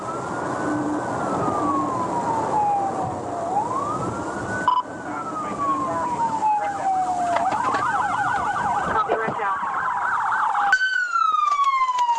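A police car siren wailing during a high-speed chase, rising and falling sweeps that switch to a faster yelping pattern, loud and close over road and engine noise.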